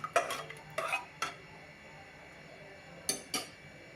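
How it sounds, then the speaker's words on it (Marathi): A spoon scrapes and clinks against a metal pot while stirring moong dal in a few short bursts, close and fairly quiet, with pauses between strokes. "आता एकदा हे सर्व छान मिक्स करून घेऊया."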